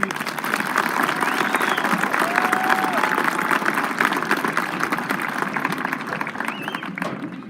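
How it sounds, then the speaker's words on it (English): A crowd at a June 2017 Comstock graduation ceremony applauds the graduates with steady, moderately distant clapping that continues evenly, with a few faint whistles, before easing slightly at the end. "If you could give them all just a round of applause,"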